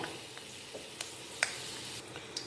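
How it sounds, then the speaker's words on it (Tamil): Fenugreek seeds frying in oil over a low flame, a faint steady sizzle with scattered soft pops and crackles, with no voices. "நம்ம வெந்தயம் போட்டு லோ ஃப்ளேமில் தான் வெந்தயத்தை வந்து பொறிக்க போகிறோம்"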